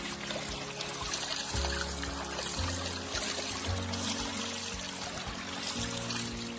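Water poured from a bucket over a gold sluice mat in a backyard, a continuous splashing, trickling flow heard up close, with low tonal hums shifting underneath.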